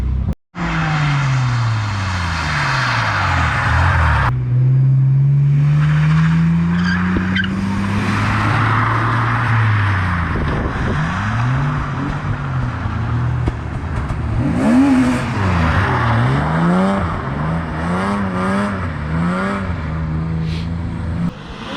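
A budget DIY drift car slides on a public street, its engine revving hard and rising and falling while tires squeal loudly in long, continuous skids, close and without talk.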